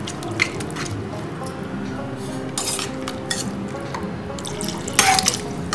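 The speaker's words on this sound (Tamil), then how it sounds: "தண்ணி விடணும் இதில்." Water is poured into a pot of simmering dal fry, making close splashes and drips with a few brief clinks of utensils against the pan, and no one speaking.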